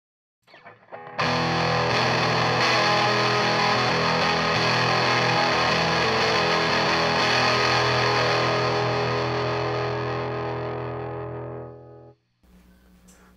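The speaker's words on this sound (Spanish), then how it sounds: "Ahora vamos a subirle a todo el gain." A Paradox Effects Terran overdrive pedal at full gain drives an electric guitar into thick distortion, one long heavily saturated passage ringing for about ten seconds before cutting off, loud and alone.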